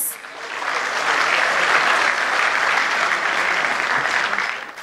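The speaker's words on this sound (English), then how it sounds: "please welcome our performers with a big round of applause" An audience at a corporate evening event claps for Bharatanatyam dance performers, a dense, even burst of applause that swells quickly, holds steady for several seconds and tapers at the end.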